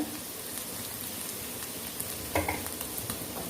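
Boiled potatoes dusted with turmeric being gently stirred in a pan, a soft continuous sizzle with a few light scraping and tapping sounds near the end, no talking.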